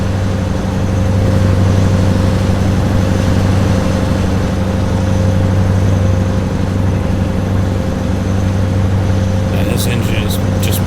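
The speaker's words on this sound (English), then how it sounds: "This engine is just purring right along." A Mack Ultraliner truck engine idles in American Truck Simulator, giving a loud, steady, low mechanical hum that stays constant throughout, with a few light clicks near the end.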